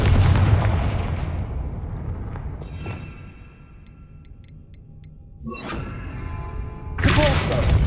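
A Confringo blasting spell in the Hogwarts Legacy video game bursts as a loud, booming explosion, followed by a quieter rumbling lull, then another heavy blast near the end.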